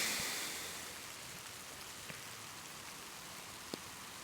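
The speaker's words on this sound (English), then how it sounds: "it's starting to rain." Light rain begins falling outdoors, a soft, even hiss of drops with a couple of faint taps, fairly quiet and with no voices.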